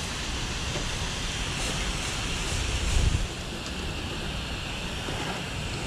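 Wash gun spraying water to rinse a house, a constant loud hiss of spray with a brief heavier burst midway, steady throughout and with no one speaking.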